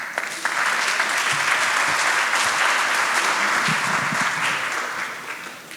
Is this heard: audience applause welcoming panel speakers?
yes